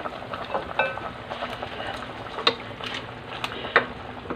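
Potatoes, saba bananas and mixed vegetables simmer in a pot of nilaga broth, a quiet steady bubbling with a few soft pops and clinks, heard close up without speech.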